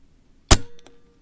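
A single sharp crack from an Evanix Max .25 caliber air rifle firing, loud and close, followed by a short metallic ring and a faint distant impact a moment later, otherwise quiet.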